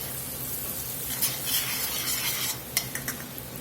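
Butter melting in a pan before onions are sautéed for poutine gravy, a soft, steady low sizzle with a few faint clicks of a utensil stirring near the end, fairly quiet and without talk.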